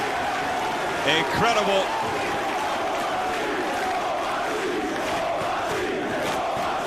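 A wrestling arena crowd roaring steadily throughout a Samoa Joe versus Kenta Kobashi match, a dense, loud wash of cheering with a commentator talking over it.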